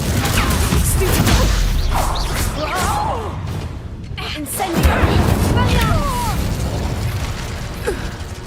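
Spell blasts from the Hogwarts Legacy video game as Confringo and Reducto are cast, loud bursts and crashes amid combat noise, while a voice calls out over them.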